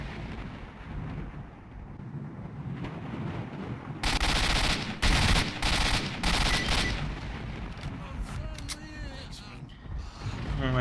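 Gunfire bursts in the S.T.A.L.K.E.R.: Shadow of Chernobyl video game, a loud close cluster of rapid shots starting a few seconds in, then fading into game ambience with scattered voice and effects.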